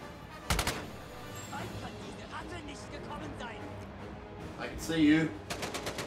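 Gunfire in the Normandy level of the video game Medal of Honor: Above & Beyond, a few sharp shots at the start and a burst near the end, with a person talking over the game sounds.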